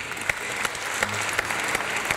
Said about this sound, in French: Veuillez accueillir et applaudir avec moi Monsieur Louis Allé.